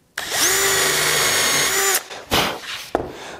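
A power drill fitted with a post drill bit bores a pilot hole in wood, a steady close whine running for about two seconds before cutting off, followed by a few short bursts of clattering handling noise.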